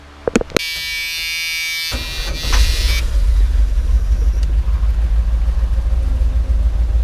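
A 1979 Chevrolet Camaro engine cranks with a high electric whine, catches after a few clicks, then settles into a loud, steady, rumbling idle that fills the rest of the clip close up.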